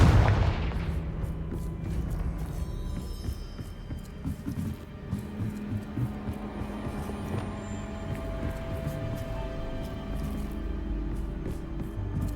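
A Confringo fire spell explosion in Hogwarts Legacy, one loud blast at the start that decays into a long rumbling tail with lingering low hum and crackle.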